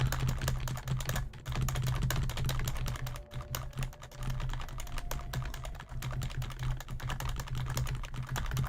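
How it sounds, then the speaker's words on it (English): Rapid tapping on a computer keyboard, including repeated Enter key presses, a close and busy clatter of keystrokes that continues almost unbroken, with a few brief pauses, and no talking. "you can hear the tapping of the enter keys"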